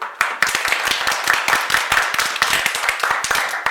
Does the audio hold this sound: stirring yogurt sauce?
no